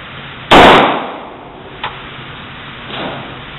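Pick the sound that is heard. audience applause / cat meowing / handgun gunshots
handgun gunshots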